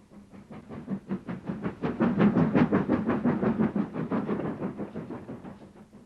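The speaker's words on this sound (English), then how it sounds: "Meanwhile, trains came and went, keeping up the well-known Bluebell winter service." A steam-hauled train on the Bluebell Railway passing close by in winter service, with a steady clickety-clack of wheels over rail joints that swells and fades, no voices.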